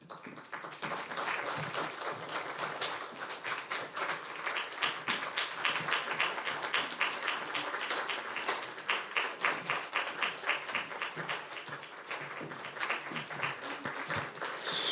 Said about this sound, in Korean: 수료증 전달해 드릴 때 우리 격려의 박수 그렇게 힘차게 쳐주시면 감사하겠습니다